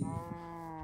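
A single short, low mooing call, a voice imitating a cow beside a cow pen in the ChainWorld video game, close and alone.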